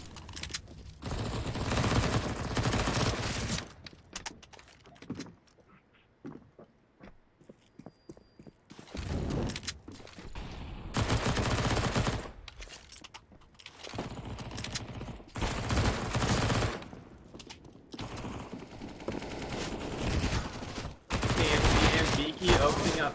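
Gunfire in a Counter-Strike match, Galil rifle and MP9 bursts, comes in long dense volleys of rapid shots interrupted by quieter gaps with footsteps, loud and sustained through most of the stretch.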